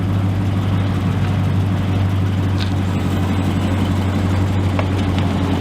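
A Dodge Challenger with a mid delete exhaust idling nearby, a loud, steady low rumble with a strong, even drone and no revving.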